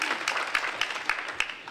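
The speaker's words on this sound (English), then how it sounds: "wait for the applause" An audience breaks into applause, a dense wash of many hands clapping at moderate loudness for a short stretch, with a few sharper individual claps standing out.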